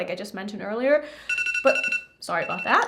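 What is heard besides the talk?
alarm going off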